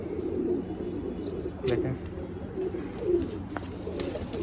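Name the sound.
pigeon cooing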